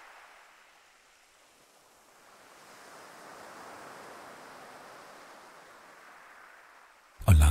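Soft waves lapping and washing at a shore at night, a steady broadband wash that swells gently in the middle and eases, calm and continuous with no voices, ending in a brief louder bump.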